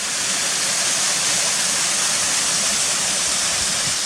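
A waterfall roars steadily nearby, a dense, constant rush of falling water with no breaks and no voices.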